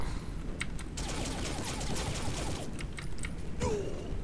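Gunfire in the video game Saints Row IV comes as a cluster of sharp cracks and bursts over a rumbling, noisy game background, with a brief whooshing sweep near the end.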